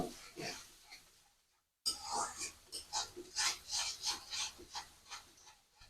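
Close, rhythmic scraping of a spoon stirring and frying spice paste with salt, coriander powder and turmeric in a pan for a hilsa and cauliflower curry, with a brief pause between strokes.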